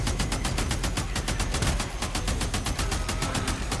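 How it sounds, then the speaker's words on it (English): Rapid machine gun fire from the PC video game Days Gone, a loud, steady stream of evenly spaced shots that keeps going without a break for several seconds. "And then machine gun."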